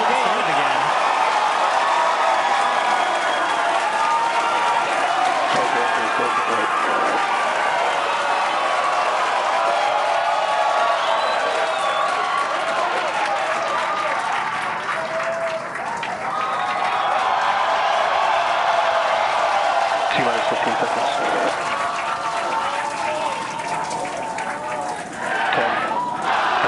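A large outdoor crowd at Starbase, Texas cheers and applauds continuously during a SpaceX Starship launch attempt, producing a dense, loud wash of voices and clapping. An announcer's voice can be heard over it.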